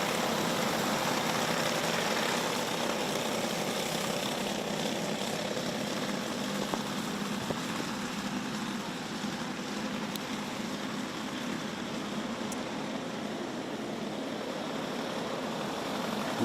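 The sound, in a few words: racing karts driving around the track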